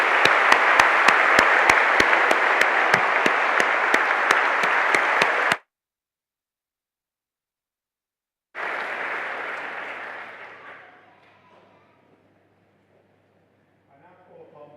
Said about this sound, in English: Let's give a round of applause for them too.